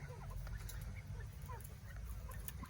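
Mountain quail in a colony pen give soft scattered calls and clucks over a steady low hum, faint and close, with no speech.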